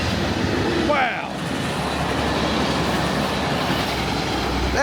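An Amtrak passenger train rushes past at high speed near Landis, North Carolina, as a loud continuous roar with a sweeping horn-like tone early on and steady rumbling wheel noise, close by.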